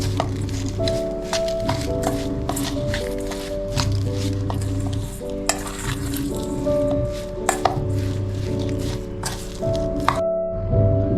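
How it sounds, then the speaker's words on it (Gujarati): Stuffed parwal (pointed gourd) filling with lemon juice and fresh coriander being stirred by hand, giving soft squishy scrapes and a few light clicks beneath steady background music, with a quiet stop near the end. "બધું હવે મિક્સ કરી લઈએ આપણે."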